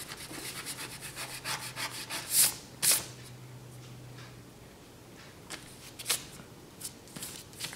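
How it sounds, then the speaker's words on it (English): An eraser rubs pencil lines off a handmade paper card in quick, scratchy back-and-forth strokes, close and fairly soft, with a few louder swipes and short pauses between them. "We want to erase all our pencil lines."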